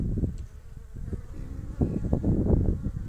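Honeybees swarm around an open beehive on a spring day in Şile, Istanbul, giving a soft, steady buzzing hum with a few duller knocks and brushes nearby.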